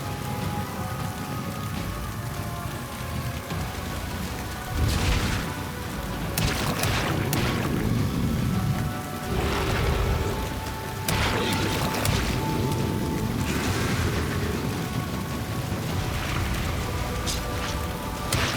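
Rain in the video game Valheim during a boss fight, a steady dense hiss of falling drops with occasional louder thuds and booming swells, heard alone throughout.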